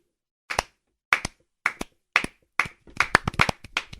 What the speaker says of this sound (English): That's your slow clap.